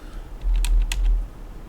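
Computer keyboard keys are pressed during gameplay of a flying game, two or three sharp clicks close together over a low hum, with no talking.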